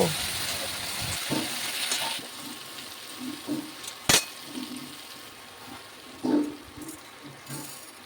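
Poppy seed paste with mustard oil, salt, turmeric and sugar frying over low heat for a vegetarian potol posto, a faint steady sizzle broken by a few spoon clinks and scrapes against the pan.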